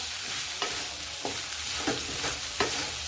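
Soaked sabudana khichdi being stirred in a hot pan, with a steady sizzle underneath and four or five spaced scraping strokes of the spoon, close and clear, with no talking.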